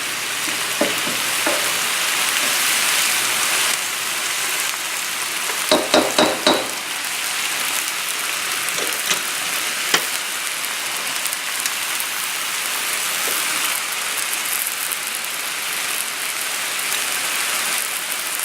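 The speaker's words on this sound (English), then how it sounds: "you would just keep on stirring because they'll cook" Shrimp and fried brown rice stir-fried in a hot pan, a continuous crackling sizzle with occasional clinks and scrapes of a spatula stirring, close and steady throughout.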